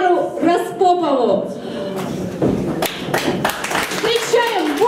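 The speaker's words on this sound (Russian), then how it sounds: "Встречаем бурными аплодисментами" Applause welcomes a performer onto the stage at a 2015 city festival of amateur ensembles singing WWII victory songs. A voice talks at first, then scattered claps build into denser, fairly close clapping.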